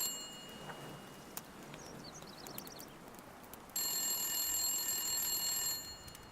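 A telephone rings inside The Long Dark video game, a bright electronic bell that starts abruptly partway through and keeps trilling steadily for about two seconds before stopping, over faint game ambience and a few small clicks.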